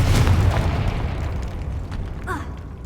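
A Confringo spell explosion in Hogwarts Legacy lands as a deep, booming blast that rolls into a dense, rumbling decay, loud and close, with a faint sweeping whoosh near the end.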